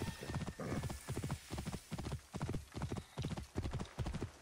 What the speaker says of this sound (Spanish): Caballito.